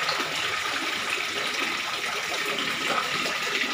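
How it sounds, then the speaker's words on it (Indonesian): A four-tier waterfall pours continuously, a steady, fairly loud splashing roar of rushing water with no breaks. "Dan inilah air terjunnya, menggunakan air terjun."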